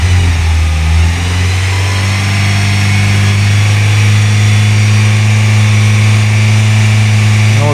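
A warmed-up VW Golf engine runs steadily close by, its low hum rising briefly in a rev near the start before settling into an even, loud drone.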